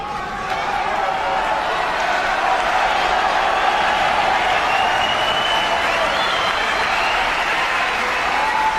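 Sustained loud applause from the Wembley crowd at the 2009 Masters snooker final between Ronnie O'Sullivan and Mark Selby, a dense, steady roar of clapping and cheering filling the arena without letup.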